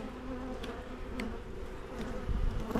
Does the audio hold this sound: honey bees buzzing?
yes